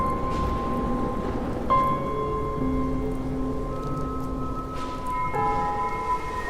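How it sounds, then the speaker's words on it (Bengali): Steady rain falls throughout, a continuous broadband hiss with no voices, while sustained bell-like tones ring over it in shifting layers. "বৃষ্টি হচ্ছে"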